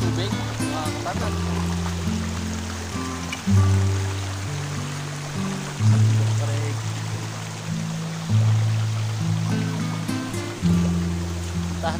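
Water runs steadily through a stream-fed lagoon on a four-hectare farm lot, a constant rushing wash heard close by. Someone talks over it at intervals.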